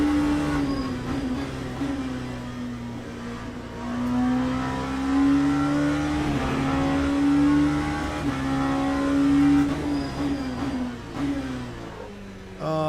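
Engine of a GT3 race car in a racing video game, a steady loud drone that rises and falls with acceleration and gear changes throughout.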